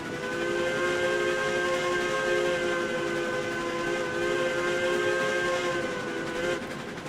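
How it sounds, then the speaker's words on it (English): A steam locomotive whistle in the railroad game RailRoads Online sounds one long, loud, steady chordal blast for about seven seconds, set against rumbling rail noise before it cuts off near the end. "Really gives the whistle a nice chance to sing out here, that's for sure."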